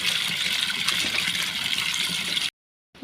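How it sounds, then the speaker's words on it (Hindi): Water runs steadily in a home courtyard, a broad even rush that cuts out abruptly near the end before briefly returning. "और अब पानी भी चला"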